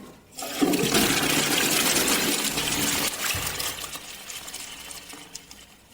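A toilet flushes with a loud rushing gush of water that gradually subsides into trickling and gurgling as the tank refills.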